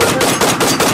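Rapid machine-gun fire pounds in a fast, loud, dense burst of roughly four or five heavy pulses in one second, heard close, with no voices.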